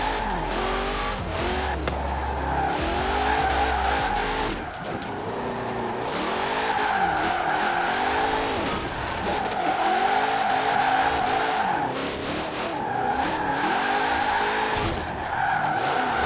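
Barrett Jackson Bubble Top car drifting in Forza Horizon 4, with a continuous loud engine roar rising and falling and repeated tire squeals as it slides through turns.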